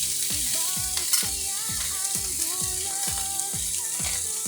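Orata fish stuffed with tomato and garlic sizzles in a grill pan, a steady close frying hiss with soft rhythmic scraping or shifting sounds repeating throughout, no talking.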